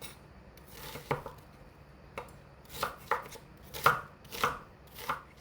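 A knife dices an onion on a cutting board, with about eight crisp, irregular cuts heard close up and no talking.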